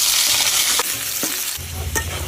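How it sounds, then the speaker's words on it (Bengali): Potatoes fry in oil, a brief, loud, close sizzle with a few stirring scrapes. "এখন আমি আলু করে ভাইজে নই।"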